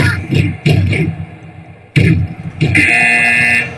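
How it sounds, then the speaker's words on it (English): A loud electronic buzzer blares in several bursts, broken by thuds, ending in a long sustained tone. "We've got a buzzer again."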